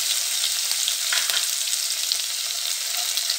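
Curry leaves frying with chilli, crushed ginger and garlic in hot oil on a tawa, a dense continuous sizzle heard up close with a few faint stirring scrapes.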